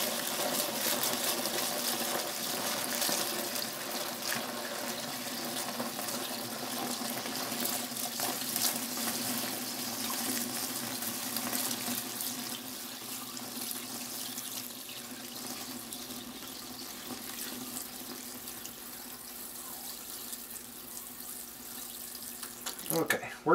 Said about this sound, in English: We're splashing it around to get plenty of oxygen absorbed in there.